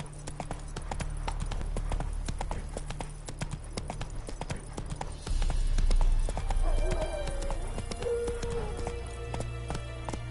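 Hooves of Roach, a horse in The Witcher 3, clip-clop in a steady galloping rhythm throughout, close and loud over continuous game music, with a brief whinny-like tone partway through.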